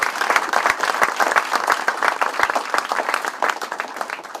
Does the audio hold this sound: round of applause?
yes